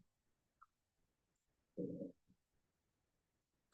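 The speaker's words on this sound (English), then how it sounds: "I hope you don't hear my stomach growling." Stomach growling close to a microphone, a single low gurgling rumble of about half a second, faint and otherwise quiet apart from small clicks.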